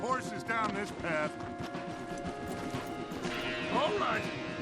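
Horses in the video game Red Dead Redemption 2 clip-clop along a path with occasional whinnies, mixed with game ambience and a voice speaking.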